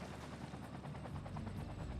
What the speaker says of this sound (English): I think the helicopters need at least like 3 douses of water to get rid of fires.